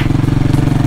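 Lolomax Cafe400 motorcycle engine idling up close, a loud, rapid, even pulsing thump in a steady rhythm for under a second.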